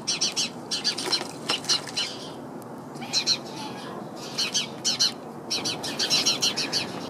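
A trapped bird flaps and squawks inside a bird feeder, with sharp, repeated bursts of calls and fluttering in an irregular rhythm, close and fairly loud.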